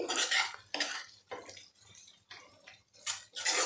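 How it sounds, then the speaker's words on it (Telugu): Spoon scraping and clinking in a pot of simmering paneer curry, several separate near strokes against metal with quiet gaps between them. "ఒకసారి పైకి కిందకి తిప్పుకొని"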